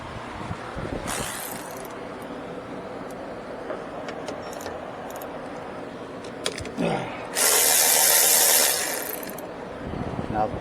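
A ratchet clicks and whirs while loosening the 14 mm bolts on a rear brake caliper of a first-generation Chevy Traverse, with bursts of mechanical clatter and a brief louder hissing stretch near the end.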